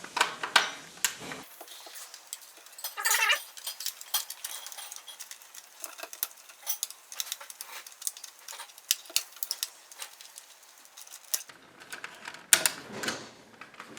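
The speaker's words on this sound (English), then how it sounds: "we're going to take our screwdriver that comes in a kit, and we're going to loosen these up and take the wires off" A screwdriver works loose the screws on thermostat wire terminals, producing small irregular clicks, ticks and scrapes close up, faint and intermittent with quiet gaps between bursts.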